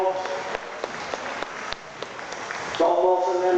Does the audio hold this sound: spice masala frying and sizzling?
no